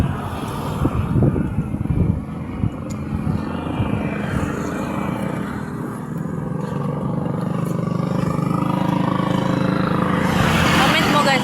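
Strong outdoor wind roars steadily and loudly into the microphone while people talk and chat nearby, with gusts building toward the end.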